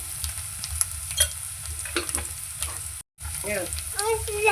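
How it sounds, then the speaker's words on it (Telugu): Ginger frying in oil in a pan for a fish curry, a steady crackling sizzle with clinks and stirring scrapes throughout, broken by a brief gap before the sizzling resumes. "అల్లం వేసినాక కొంచెం మంచిగా నూనెలో పోలాలి."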